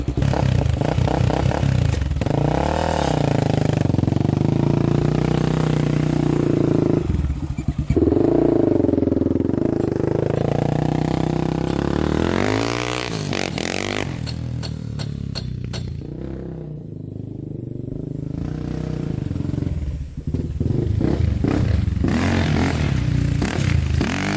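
A Honda 400EX quad's engine runs loud and close after starting, idling roughly and revving up and down with rattly mechanical clatter, the pitch rising and falling throughout.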